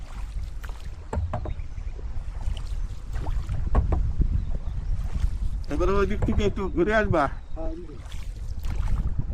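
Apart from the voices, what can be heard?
rowboat on a lake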